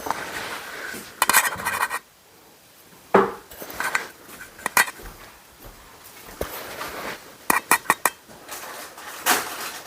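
Swiss Miss hot chocolate mix is scooped and tipped into a container, close scrapes, rattles and clinks of a spoon and packaging in uneven bursts separated by short quiet gaps, with no talking.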